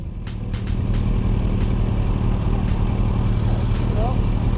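A Suzuki B-King motorcycle ridden out on the road, its steady engine drone and wind roar running loud and continuous throughout, with brief gusty bursts of wind noise.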